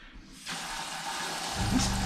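A faucet in a 2016 Thor Hurricane 34J RV turns on and water gushes steadily into a basin, loud and close, continuing without a break.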